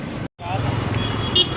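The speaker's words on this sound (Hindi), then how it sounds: "ट्रैफिक देखिए यहाँ पे काफ़ी ज़्यादा रहता है" Busy road traffic beside a metro station at Mamura market in Noida makes a constant roar of passing vehicles, with a brief horn toot near the end and someone talking over it.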